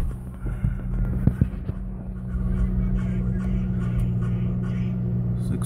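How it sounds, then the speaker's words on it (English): A 2014 Dodge Challenger V6 engine idling with a low, steady rumble close by, then rising slightly as the gas pedal is pressed and held, with a few clicks early on. "Turn the car on and hit the gas pedal a little bit."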